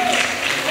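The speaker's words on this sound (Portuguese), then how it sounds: "Aplauda Jesus aí" A church congregation at a pastor's sermon breaks into brief applause, a close, loud wash of clapping lasting under a second.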